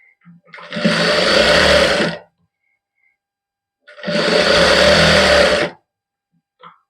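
Sewing machine stitching the shoulder seam of a thick homemade undershirt, two steady motor runs of roughly two seconds each with a quiet gap between, close and loud, with no talking.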